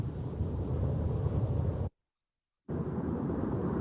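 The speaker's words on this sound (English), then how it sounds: "Wind." Wind ambience previewed as a background sound effect in Facebook Horizon, a steady broad roaring rush that cuts out abruptly for under a second, then resumes at the same level.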